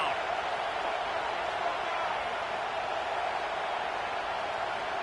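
A football stadium crowd on third down makes a dense, continuous roar that holds at a constant loud level throughout.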